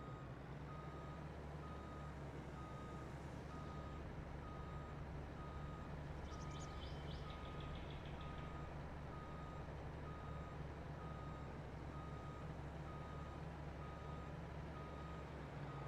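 Reversing beeps of a truck in Farming Simulator 22, a steady evenly spaced electronic beep repeating over a constant engine drone and low rumble throughout.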